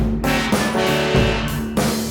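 A guitar plays a short, loud transition phrase of several strummed chords and picked notes, ringing on with no talking.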